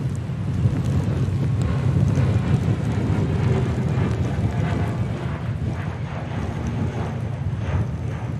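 Jet airliner departing Manchester Airport, a continuous broad low roar of engines mixed with gusty wind buffeting the microphone, steady and moderately loud throughout without speech.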